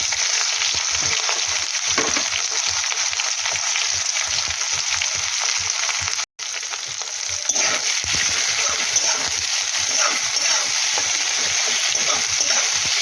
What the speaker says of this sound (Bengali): পেঁয়াজটা একটু লাল লাল করে ভাজা হবে